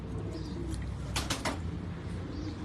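Striped cross-bred pigeons coo softly nearby, with a brief burst of flapping wings in the middle, and a steady low background throughout, with no voices.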